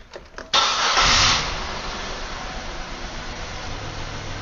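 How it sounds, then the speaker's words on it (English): A car engine cranks briefly and then catches, roaring loudly for a moment before settling into a steady idle, as a secondary ignition waveform is checked. "when I start the engine"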